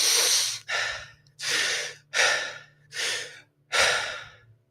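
Full lung breathing exercise, five long deep breaths drawn in and let out through the mouth in a slow even rhythm, close and loud, with a faint low hum behind, no talking.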